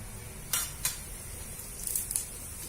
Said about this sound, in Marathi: तेल तापल्यावर मोहरी टाका मोहरी चांगली तळतळली पाहिजे